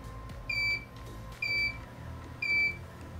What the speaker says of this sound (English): All right, 4 beeps, we're done.